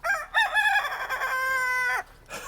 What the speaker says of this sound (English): That's a new little rooster.